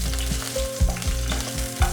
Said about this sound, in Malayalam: ഇതൊന്ന് ഇളക്കി കൊടുക്കാം.